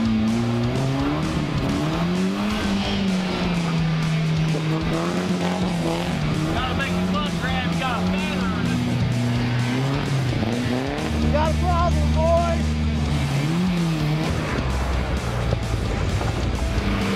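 Volvo sliding around a wet pond, engine revving and tires squealing in long wavering skids, close and loud, with people talking over it.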